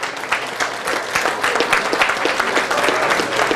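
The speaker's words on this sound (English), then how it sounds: "and another big round of applause." An audience at the 2013 Bourbon Festival mixed drink challenge in Bardstown gives a hearty round of applause, dense, lively clapping from many hands, close and loud for several seconds.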